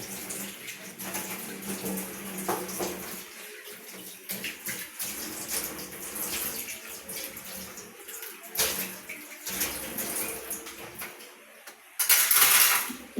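Dishes are washed under a running tap, with a steady splash of water broken by clinks and knocks of plates and utensils. A louder gush of water comes near the end. The sound is fairly quiet and close, with no clear speech.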